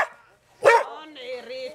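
A Belgian shepherd dog gives a sharp, loud bark up close, followed by a whiny yelp trailing off, with a brief sound at the very start.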